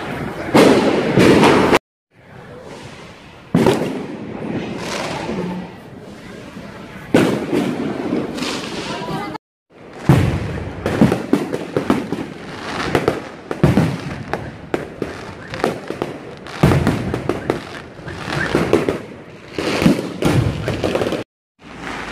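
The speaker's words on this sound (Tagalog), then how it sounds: "May fireworks pala." Fireworks burst repeatedly at night over a street full of cars, a dense run of loud booms and crackles with short pauses between volleys, heard from nearby.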